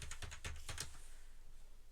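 Computer keyboard typing of a short command in a Linux terminal, about seven quick keystrokes in a rapid burst, close and clear, then fading to quiet room tone.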